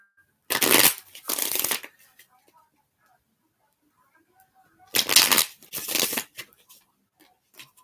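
Tarot cards riffle-shuffled in two close, crisp bursts, each a rapid flurry of papery flicks lasting about a second, separated by several seconds of near silence.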